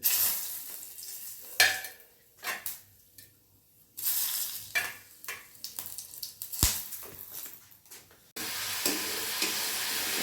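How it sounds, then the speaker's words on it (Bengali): Whole bay leaf, cardamom, cloves and cinnamon sizzle in hot oil with intermittent bursts of spattering and stirring, quiet gaps between them, ending in a loud continuous hiss. "এখানে আমি ফোড়ন দিয়ে দিলাম তেজপাতা, এলাচ, লবঙ্গ, দারচিনি"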